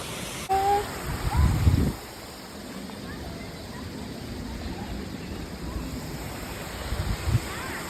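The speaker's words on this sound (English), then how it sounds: "We get to the waterfall right here." A waterfall in an outdoor nature setting gives a steady, even rushing roar throughout, with a few louder knocks and rustles near the start.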